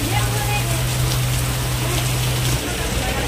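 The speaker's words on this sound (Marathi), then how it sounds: "बघू शकतात भरपूर पाऊस पडते, भरपूर" Heavy rain pours steadily in a constant broadband hiss, loud and close, with a low engine-like hum running beneath it for most of the stretch.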